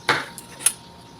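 A knife cuts through a fresh kiwi fruit during meal preparation, making one crisp slicing crunch followed by a softer second cut, close and clear with no talking.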